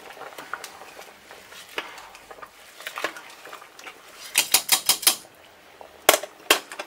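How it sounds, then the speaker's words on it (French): A spoon stirs hemp seed cooking in a pot, giving a steady scraping clatter that builds into a run of louder clinks and taps, then two sharp knocks near the end, with no talking. "Voilà, on mélange bien."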